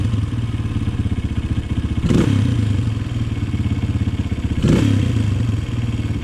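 Honda CRF230 dirt bike engine idling with a steady, close thumping beat, blipped on the throttle twice into short revs and then dropping back to idle, with no talking.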